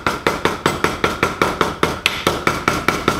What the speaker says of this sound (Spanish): martillar de forma circular, y de a poco lo que vamos a hacer es generándole otra cabeza